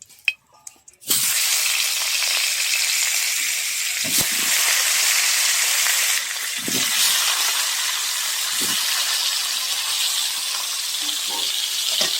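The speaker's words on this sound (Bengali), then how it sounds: "এবার দিয়ে দেবো আবার সরষের তেল। এখানে মাংসের আলুগুলো ভেজে নেব।" Potatoes for a meat curry are frying in mustard oil. After a short quiet start, a loud, constant hiss and sizzle takes over, broken by occasional clicks of stirring.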